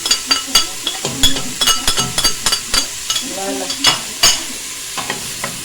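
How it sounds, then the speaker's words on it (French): Chopped onions frying with turmeric in a pot, loud close sizzling broken by frequent sharp stirring strokes and clinks of a spoon against the metal, with a brief voice partway through. "On fait revenir les oignons quelques secondes."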